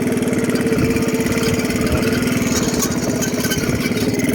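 An old Honda C70 motorcycle, at least fifty years old and still rideable, idles close by with a steady, fast, even putter of the small single-cylinder engine that holds constant throughout.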